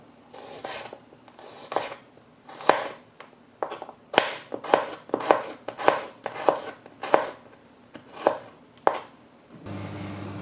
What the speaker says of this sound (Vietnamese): Tỏi thì mình cắt lát.